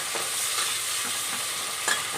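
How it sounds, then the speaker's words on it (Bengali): Onion and green chili frying in hot oil for a chicken curry cooked in a pressure cooker, a steady close sizzle with a few soft stirring scrapes and a brief clink near the end. "এবার ভালো করে লাল করে গোল্ডেন ব্রাউন করে ফ্রাই করবো"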